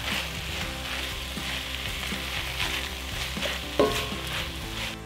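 Pork and kimchi stir-frying with green onions and red chilies, giving a dense, steady sizzle close up, with soft stirring and one brief clink near the end, no voices.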